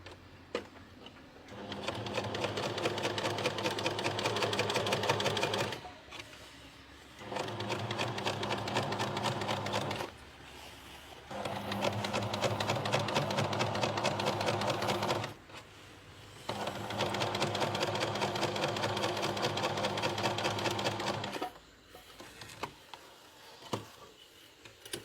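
A sewing machine stitches a tailored jacket sleeve in four steady bursts of fast, even clatter of about four to five seconds each, with short pauses between them and no talk over the stitching.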